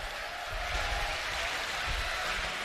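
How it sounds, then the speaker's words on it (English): Applause from the crowd at a U.S. professional timbersports championship: steady, dense clapping heard from a distance, even in level throughout. "Big round of applause for Nate Hodges."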